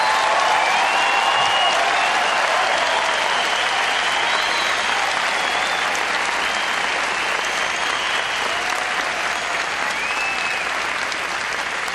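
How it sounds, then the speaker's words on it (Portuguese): A church congregation applauds during a worship service, a continuous, dense roar of clapping from a large crowd in a reverberant hall, with faint voices calling out above it. "Eu gostaria que você desse um aplauso ao Senhor"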